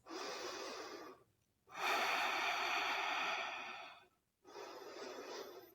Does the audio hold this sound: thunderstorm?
no